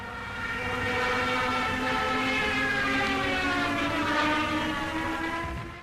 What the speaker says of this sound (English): sirens installed on the landing gear that emitted a loud, ghostly sound during the aircraft's dives